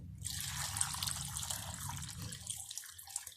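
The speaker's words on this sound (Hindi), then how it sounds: "और हाफ जग पानी डाल रही हूँ छोटा" Half a jug of water pours steadily into a wok, a continuous close splashing rush lasting a few seconds before tapering off.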